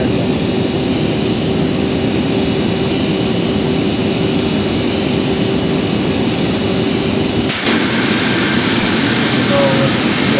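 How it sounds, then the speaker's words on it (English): Second engine of an Airbus A330 starting in a flight simulator game, a sustained loud turbine roar with a steady tone that shifts abruptly partway through as the sound changes character. "now I've given the command to start the second as well"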